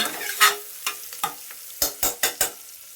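Food frying in a pan until it changes colour, with a spatula scraping and knocking against the pan in about six or seven sharp, separate strokes over a faint background sizzle. The strokes grow more regular near the end.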